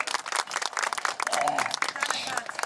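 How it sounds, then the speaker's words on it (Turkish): Crowd clapping at a Turkish wedding in Konya, a dense patter of hands mixed with loud talk and cheering voices over it. "Alkışlayalım o zaman."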